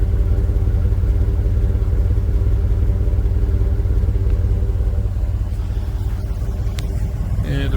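A Ford Super Duty truck's 5.4 liter engine idles with newly installed headers and Y-pipe, making a close, continuous low rumble that stays steady before a few light clicks near the end.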